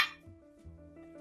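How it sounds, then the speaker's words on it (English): Ice clinks sharply into a cocktail glass for a Moscow Mule at the very start, then a low steady tone carries on quietly underneath. "We're going to get a little ice in our glass"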